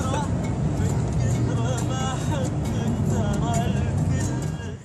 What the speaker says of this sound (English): So far, that's what it looks like, a car race.